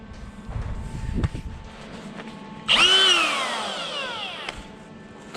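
A die grinder cuts through steel brackets with a sudden loud, high-pitched screech that breaks in partway through and then slowly fades, following a quieter stretch of low rumbling and knocking.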